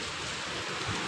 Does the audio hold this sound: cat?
no